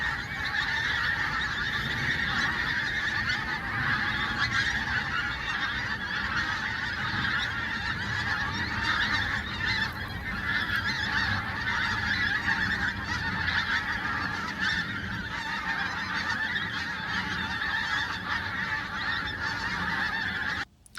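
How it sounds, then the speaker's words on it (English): A large flock of pink-footed geese honking continuously over the Norfolk coastal marshes, a dense overlapping chorus of calls at steady loudness with no talk. "not just the pink-footed geese that we spoke about earlier"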